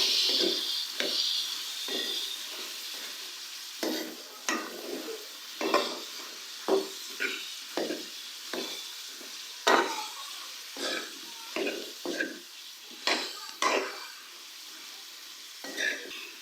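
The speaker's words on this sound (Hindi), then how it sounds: "अब हम सब्जियों को अच्छे से मिक्स करेंगे।" Carrots and peas being stirred in a pan with a spoon, repeated scraping and clinking strokes at an uneven rhythm over a soft frying sizzle, close and moderate in level, with no talk.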